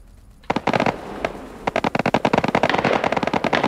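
Gunfire in the online PvP shooter Badlanders: a single shot, then a burst of rapid automatic fire crackling in quick repeated bursts, loud and close, with no talk over it.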